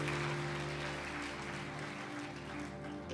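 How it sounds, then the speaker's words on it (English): Church congregation applauding during a Holy Week service at Liberty Church, a steady wash of clapping that holds at an even level throughout, fairly distant and diffuse. "Can we give them a round of applause?"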